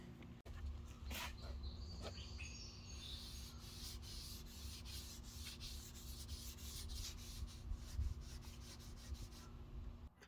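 Wet sanding of hardened primer on a car body during dent repair: a continuous close rubbing and scraping rasp with steady back-and-forth strokes and a low background hum, no talking.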